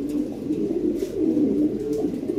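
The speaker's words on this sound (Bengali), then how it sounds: "এগুলা লাহোরি কবুতর, অরিজিনাল ইউরোপিয়ান লাহোরি" Lahore pigeons cooing close by, a low, throaty, continuous rolling coo that swells and fades over a couple of seconds, with no talking.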